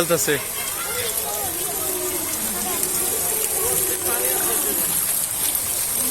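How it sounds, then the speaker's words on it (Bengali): Water falls steadily with a continuous rushing hiss at a site in Polwe, while a person talks over it. "এই পানিটা নিচে পড়তেছে"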